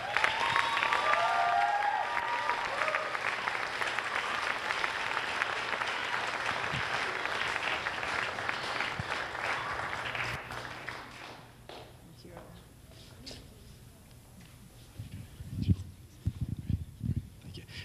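An audience gives sustained applause to welcome a speaker to the stage, a loud steady clapping that fades after about ten seconds, followed by scattered claps and footsteps.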